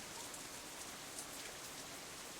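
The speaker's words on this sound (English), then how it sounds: "The rain keeps coming down harder and harder." Steady rain falls in a continuous, even hiss with scattered drop patter on surfaces, fairly faint and with no voices over it.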